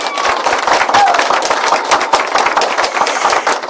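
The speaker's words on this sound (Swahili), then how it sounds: "Makofi mengi kwake baba." Applause for a church choir leader at a live Catholic choir broadcast in Mwanza rises as a steady, dense clapping from a crowd, fairly loud and continuous throughout.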